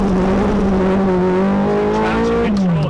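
A Ferrari Scuderia with a gated six-speed manual accelerates on a slippery road with traction control active, its engine loud and close, a steady droning pitch that climbs slightly then drops near the end.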